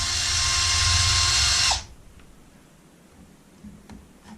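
A power drill spins a screw out of a Traxxas MAXX 4S shock while the oil is being changed, a steady loud whine for almost two seconds that cuts off abruptly, followed by faint handling noises.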